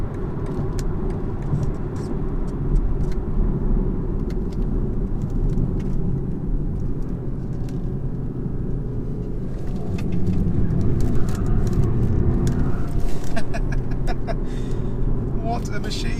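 Steady road noise and a low engine hum fill the cabin of a 2020 BMW 320d on the move, swelling briefly partway through, while someone talks over it throughout.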